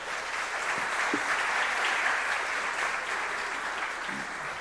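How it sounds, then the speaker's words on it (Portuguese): An audience at a lecture-series event in Santa Catarina gives a round of applause for a man called up to receive a gift, a steady, even wash of many hands clapping throughout. "Uma salva de palmas para o Vitor, por favor"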